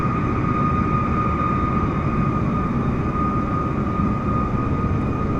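PMDG 777-300ER jet engines spooling at full takeoff power in the MSFS 2024 flight simulator, a loud, steady roar with a broad rumble and a high whine held throughout, no speech.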